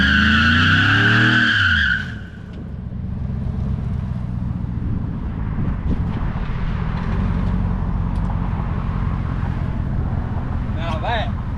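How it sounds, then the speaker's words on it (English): A newer pickup truck does a burnout with traction control off, spinning both rear tires. After someone briefly talks, a loud, sustained screech and engine roar runs steadily, close by. "Now that, brother, is a burnout. And it did both tires."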